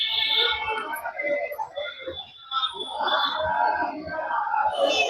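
A Thursday crowd at a temple, a busy wash of many voices, calls and shouts layered together, fairly close and continuous with rising and falling swells.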